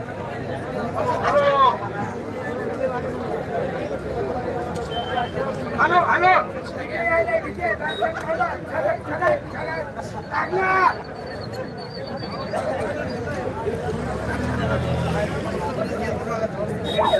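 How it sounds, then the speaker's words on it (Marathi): A huge crowd of Marathas at a rally in Talegaon Dabhade, a dense roar of chatter and shouting that keeps going the whole time, loud and close, with voices rising out of the babble. "प्रचंड गर्दी प्रचंड गर्दी आहे"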